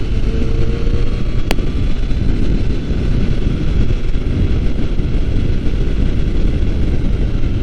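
Strong, constant wind buffeting the microphone while riding Route 178 in Japan on a warm October day, a loud rumbling roar that never lets up, with a brief faint tone early on.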